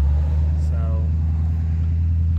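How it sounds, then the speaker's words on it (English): Street traffic outside droning as a low, constant rumble of car engines, loud and unbroken, with a brief faint chirp in the middle and no distinct pass-bys. "Sorry about the traffic noise going on."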